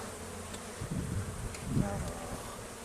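Bees swirl around an opened hive, their steady buzzing loud and close, with lower surging hums as individual insects fly near.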